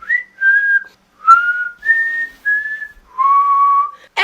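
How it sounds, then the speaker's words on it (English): Loud, clear two-finger whistling: a series of about six sustained piercing tones at slightly different pitches, separated by short gaps, close to the listener with no talking. "how to whistle with 2 fingers"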